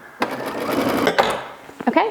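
A home sewing machine stitches rows of elastic thread on a girls' top, running in a steady whirring, clattering burst, then pausing for short back stitches, with a voice talking over the end.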